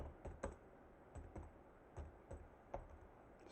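Computer keyboard keys struck at a slow, uneven pace while entering text into an MS Excel chart title, each click distinct and close in a quiet room.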